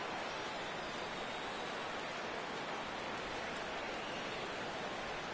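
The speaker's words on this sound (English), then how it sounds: "That rain is really coming down now." Heavy rain pours steadily over a baseball stadium during an afternoon game, a dense, even hiss with no breaks and no voices.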